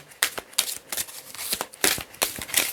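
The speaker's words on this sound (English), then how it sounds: "Okay, one more shuffle." A deck of playing cards is shuffled in a few quick riffle bursts, crisp papery rattles repeating at short intervals, close and fairly loud, during a tarot-style reading.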